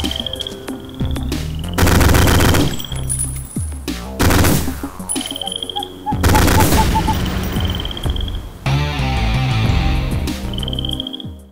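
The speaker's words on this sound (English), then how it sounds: "During the Haskell's House of Horrors level, if you shoot the moon, this will happen." Gunfire aimed at the moon in the video game Ion Fury, on the Haskell's House of Horrors level: loud repeated bursts of game gunshots with short gaps, over ringing electronic game tones.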